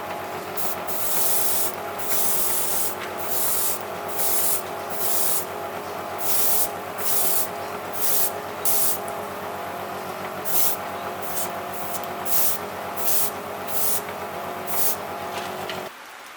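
Light dusting of satin gold spray paint onto a swimbait lure, with many short hissing bursts, some in quick clusters, sounding close over a steady mechanical hum.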